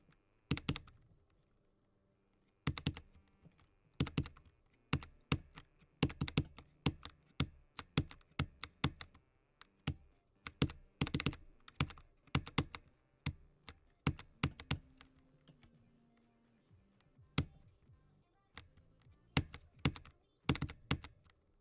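Keys clicking on a computer keyboard while Geometry Dash is played, quick irregular bursts of crisp taps separated by short pauses, close and clear over faint background game music.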